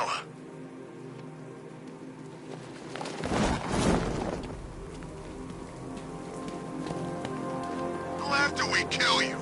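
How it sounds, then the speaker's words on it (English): Rain pouring steadily in the video game Batman Arkham Knight, a continuous patter on surfaces with a loud whooshing swell early on and faint game sounds drifting over the downpour. "What's with all the rain?"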